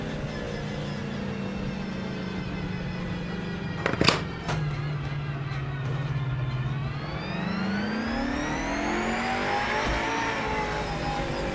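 A GT3 race car in a racing video game: a loud, sustained engine drone that dips, then climbs steadily in pitch as it accelerates, with a brief sharp crash-like burst near the middle.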